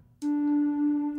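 Buchla oscillator sample triggered on a modular synthesizer setup: a single steady, bright harmonic tone starts abruptly after a brief pause and holds at even loudness for about a second, alone.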